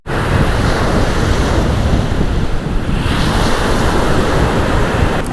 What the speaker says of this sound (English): I can't get over how this is such a beautiful beach here.